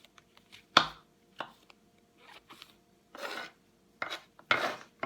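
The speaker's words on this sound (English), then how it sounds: "You want to cut your mushrooms up nice and small." Mushrooms are chopped small with a knife on a board, a run of irregular short cutting and scraping strokes, close and fairly quiet with gaps between bursts.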